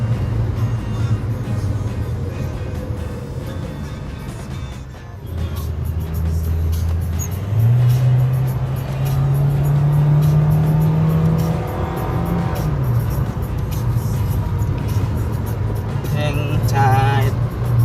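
A Toyota Rush engine pulls hard through the gears on a test drive, its tone rising and shifting, with a sustained climbing drone mid-run. The engine is loud and close inside the cabin.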